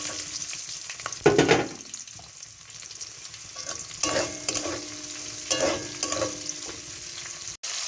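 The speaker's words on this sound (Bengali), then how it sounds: "এবার এটাকে ভালো করে ভেজে নেব" Onion and capsicum fry in oil in a wok, a soft continuous sizzle broken by several louder bursts of stirring and scraping, with no talk.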